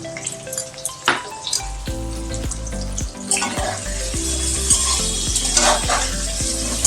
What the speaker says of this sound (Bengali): এবার গরম তেলে দিয়ে দিচ্ছি ওল।